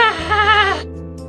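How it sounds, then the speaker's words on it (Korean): A wild boar's desperate, drawn-out shriek on a mountain ridge, one harsh wavering cry lasting under a second, loud and close before cutting off into quiet. "멧돼지가 사라진 방향 쪽에서 멧돼지의 처절한 괴성이 산등성을 타고 메아리처럼 들려왔다"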